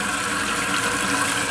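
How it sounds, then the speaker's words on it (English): Water from a household tap runs steadily into a sink as a small plumbing job is tested for leaks, a constant close hiss of flow with no voices. "I'm going to turn on the water and hoping for no leaks."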